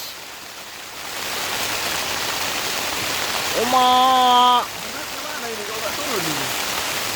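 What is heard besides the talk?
heavy rain during a truck drive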